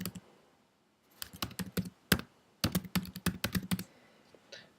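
Typing on a computer keyboard to enter an email address and password, in two rapid bursts of clear, close keystrokes separated by a short pause, with no talking.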